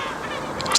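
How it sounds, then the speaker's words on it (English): Gull-like honking calls rise near the end of a short stretch of seaside ambience, two or three bright cries standing out over a steady background wash. "I hope you can hear all the seagulls and everything else around here"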